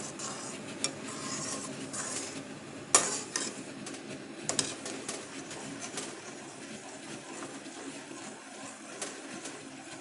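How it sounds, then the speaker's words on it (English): A utensil stirs a thickening pasta sauce in a pan, with soft scraping and occasional sharp clinks against the metal, fairly quiet and intermittent against a low kitchen background. "Keep stirring intermittently like this."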